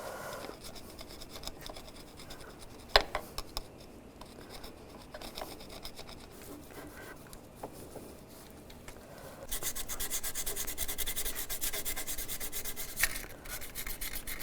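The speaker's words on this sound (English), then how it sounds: "You can use a little emery cloth or some light sandpaper." Emery cloth rubs back and forth over a BMW 325xi thermostat housing, giving a quiet, steady scratchy sanding sound with a few light knocks, growing brighter and more continuous toward the end.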